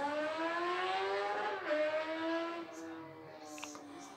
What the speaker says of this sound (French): Encore une moto qui fait plus de bruit qu'elle n'avance.